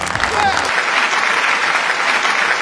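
Close, loud applause on a street in Amsterdam as a quiz participant is praised, a dense burst of clapping that starts over a brief voice and continues steadily.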